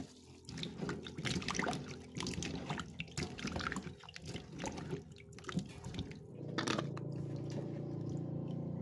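Purple yam (ube) is washed in water, with steady splashing, trickling and sloshing close by as the pieces are rubbed and rinsed, growing into a fuller running-water sound near the end.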